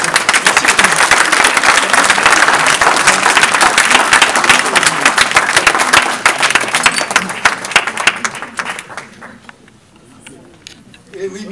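Dense applause from a crowd fills most of the clip, then thins out into scattered claps near the end as a voice comes through.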